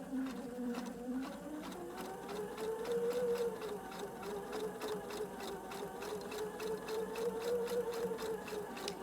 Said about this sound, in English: So we are just going to sew down this seam.